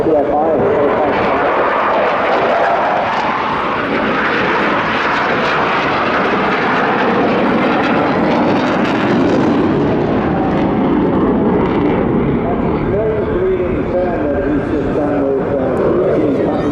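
A military aircraft flying at the Bournemouth Air Festival 2024 gives a loud, steady engine roar that fills the whole stretch, with a commentator talking over it throughout.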